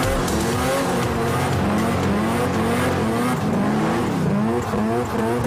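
Loud, continuous race-car engine with shifting harmonic sweeps and sustained tire squeal as a car drifts, running steadily for the whole stretch with no talking.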